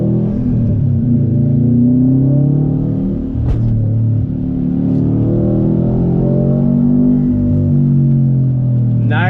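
A 2018 Subaru WRX STI engine in sport sharp mode pulls hard under acceleration, its close, loud drone climbing steadily in pitch with a brief click partway through and no voices over it.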